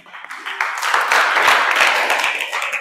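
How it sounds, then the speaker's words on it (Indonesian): A classroom of junior high students bursts into applause during a coding and artificial intelligence lesson, with a dense wash of clapping that swells and holds close by. "Tepuk tangan lu."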